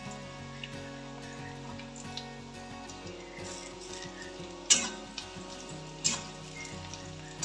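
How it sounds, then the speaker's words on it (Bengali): Chopped green chilies frying with onion in hot oil in a pan, a soft steady sizzle with faint crackle and a few sharper clinks of a utensil against the pan, heard up close and quiet with no talk. "এবার কুচিয়ে রাখা লঙ্কাগুলো আমি দিয়ে দেবো।"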